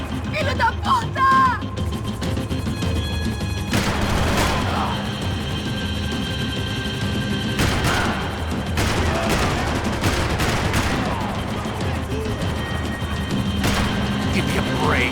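Gunfire in the video game Max Payne 3: bursts of shots and automatic fire crack out over a dense, loud action soundscape with crashes and impacts, and game voices shout over the top.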